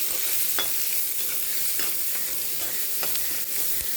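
Ingredients being sautéed while stirred in a pan: a steady, close sizzle of frying runs throughout, broken by light scrapes and clinks of the stirring utensil.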